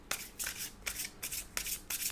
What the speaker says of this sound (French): On va juste tirer une dernière carte d'un oracle